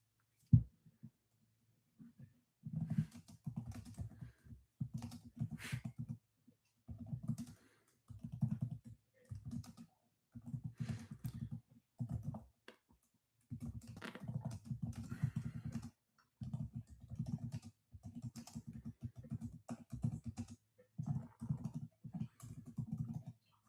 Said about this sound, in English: I was typing my little heart out.